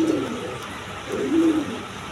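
A pair of red Danish pigeons cooing softly nearby, two low rounded coos spaced about a second apart over quiet background hiss.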